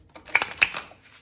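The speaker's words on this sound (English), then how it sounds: "I'm just giving the cards a shuffle because I feel like they should." A deck of tarot cards is shuffled by hand, giving a short burst of quick riffling clicks and flutters close up, over in about a second.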